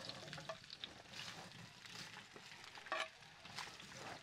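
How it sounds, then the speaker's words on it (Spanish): Shrimp-broth vegetables parboiling in a hot pot on a ranch kitchen stove, a soft steady bubbling and sizzling hiss with faint clinks, quiet and close, no voices. "ahora sí voy a poner ya a sancochar la verdura"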